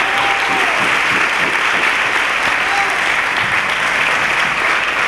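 Stadium crowd at Elche CF's promotion celebration gives a loud sustained ovation for Nino, dense clapping and cheering filling the space, with a faint whistle-like tone rising above the roar.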